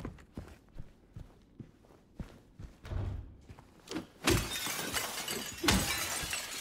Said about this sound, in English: I'll break the glass.